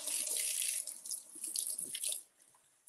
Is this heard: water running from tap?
yes